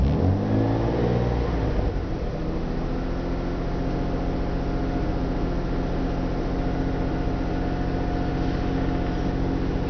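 Car engine revving up and then holding a steady 2,000 RPM, a loud continuous mid-pitched drone with a rising sweep at the start and even tone after, with no talking.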